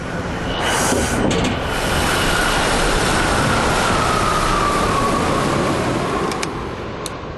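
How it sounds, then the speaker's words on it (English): A train runs along a test range, a loud continuous rumbling roar of wheels and engine that holds steady throughout, heard close and alone. "It's hard to stop a train."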